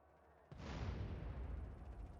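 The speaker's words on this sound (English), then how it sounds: "Explosions everywhere." Sudden loud blast followed by sustained rumbling explosions of police cars during riot mode in Grand Theft Auto: San Andreas, a dense, booming roar that stays heavy for about two seconds with no talk over it.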